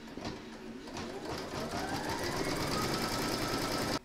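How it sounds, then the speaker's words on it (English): An embroidery machine stitches an appliqué cross through fabric and batting held in a hoop, a steady, fast mechanical chatter of needle strokes running evenly before stopping abruptly. "Pop your hoop into your machine and stitch round number 2 to secure them all."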